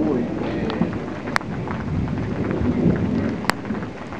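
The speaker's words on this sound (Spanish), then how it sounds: "tormenta eléctrica." Electric thunderstorm in Carmen de Viboral, Colombia: heavy rain hisses steadily while thunder rumbles low, with a couple of sharp cracks standing out, and no voices.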